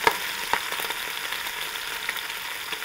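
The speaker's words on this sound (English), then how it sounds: "But first of all, we have to cook the bacon." Bacon frying in a pan gives a steady, close crackling sizzle with a few sharper pops near the start, and no talking over it.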